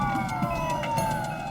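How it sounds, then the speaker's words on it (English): An ambulance siren wails steadily through a short stretch, a loud continuous tone sliding in pitch, with engine and road noise underneath. "Chelsea's parents followed Dr. Wilder and the ambulance as it raced against time."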